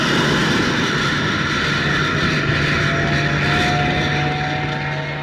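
Radio drama effect of a spacecraft lifting off with jets firing: a steady, loud roaring engine drone with a rising whine, continuous throughout and heard on its own.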